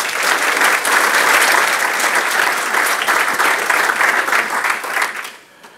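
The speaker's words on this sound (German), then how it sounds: "bitte einen herzlichen Applaus für Tobias Kempf und Michael Kraus" Conference audience applauding two speakers at an open-source monitoring event, a dense, loud, steady wash of clapping from many hands that holds for about five seconds, then drops off sharply.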